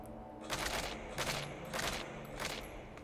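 Soldiers in the Metal Gear Solid V prologue fire in repeated bursts of gunfire, four or five loud clustered volleys spaced about half a second to a second apart, with no talk over them.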